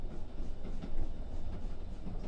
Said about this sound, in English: the steam train enters a dark tunnel now, as it takes you underneath London